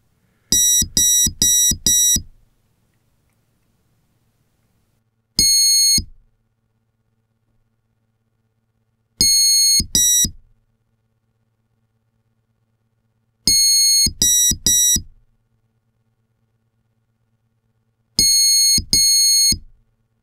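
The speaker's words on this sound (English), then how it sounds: "the choices you can make will be presented by a series of beeps" Electronic speed controller for a model aircraft, a Hobbywing Skywalker, in programming mode, giving clear tonal beeps in short groups of about four or two, repeating every few seconds, with no talk.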